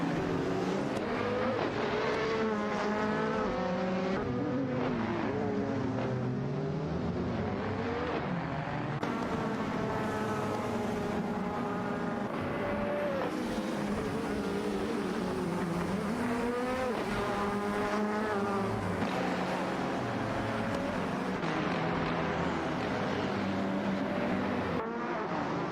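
Race cars, among them a Porsche 919 Hybrid, roar through a simulated racing game, engines rising and falling in pitch as they pass and shift, continuous and loud with overlapping passes.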